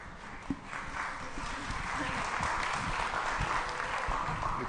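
Audience applause for a team at a tech startup demo day, a steady wash of clapping holding for several seconds with a few sharper claps near the start.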